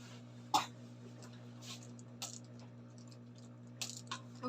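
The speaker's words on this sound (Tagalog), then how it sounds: "Ay, umuubo." A single sharp cough near the start, followed by a few softer throat sounds and small clicks over a steady low hum.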